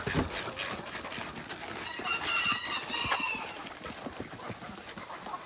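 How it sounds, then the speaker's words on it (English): Chickens on a family farm at evening feeding time, a steady chorus of clucking with a rooster crowing midway, fairly close and continuous with no talk. "let's feed the chickens"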